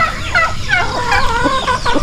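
Turkeys and chickens cluck and chatter on a farm, a busy overlapping mix of close, loud calls with no talk.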